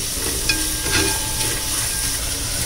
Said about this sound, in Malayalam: എന്നിട്ട് നന്നായിട്ടൊന്ന് വഴണ്ട് വരട്ടെ.